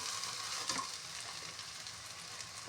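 Taro mash sizzling and frying in a pan over medium-high heat while being stirred, a steady close crackle with a few scraping touches, no voices.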